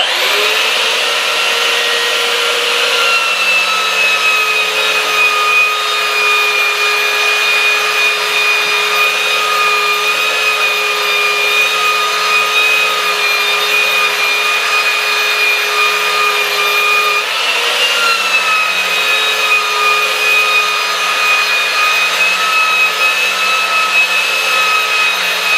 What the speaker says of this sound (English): So let's just fire this up and sand it off.